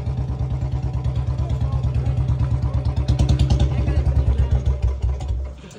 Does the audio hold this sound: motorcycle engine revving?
yes